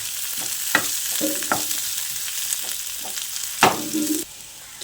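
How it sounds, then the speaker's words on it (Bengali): Cut potatoes frying in a pan with tempering spices for a vegetarian masala aloo, with a steady close sizzle and several sharp scrapes and knocks of stirring, then a quieter stretch near the end. "একটু ভেজে নিচ্ছি।"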